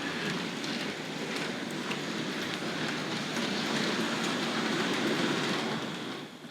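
A Hornby model railway locomotive pulling coaches around a tight radius curve under an elevated section, a steady close whirring rattle of small wheels and motor with light clicking, no voices.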